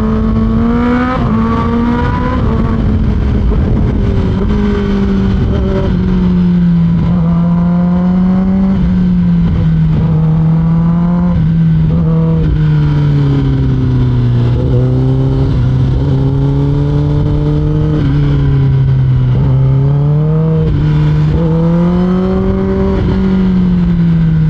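A Kawasaki ZX10R sportbike fitted with a long carbon SC Project SC1-R side exhaust revs loudly and steadily, its pitch rising and falling through repeated throttle blips across the whole stretch, close up with no talk.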